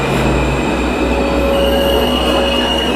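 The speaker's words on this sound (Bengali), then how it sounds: "ওই তো ট্রেন এসে গেছে।" A train pulls into a station with a loud, steady rumble and faint high wheel squeal. The sound is close and continuous, with no voices.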